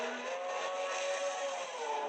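R32 Skyline GTR race car with an RB30 billet block and 3.2-liter stroker kit, making about 3,000 horsepower, holds a steady loud engine roar for a couple of seconds, with no talking.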